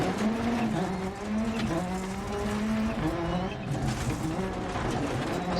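Rally car engine in Dirt Rally 2.0 from the cockpit view, a steady whining drone with shifting pitch as the car veers off the road, tyres and gravel noise underneath.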